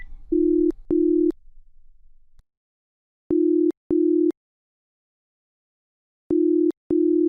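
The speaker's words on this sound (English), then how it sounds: "I quickly disconnected and dialed my mother." Telephone call ringing out unanswered: a steady electronic tone sounds in paired beeps, each pair followed by a long silent gap, repeating three times, clean and close.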